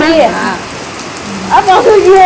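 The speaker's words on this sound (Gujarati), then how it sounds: "એમાં મસ્ત વરસાદ પડે" Steady rain patters in a continuous hiss while a person speaks briefly over it.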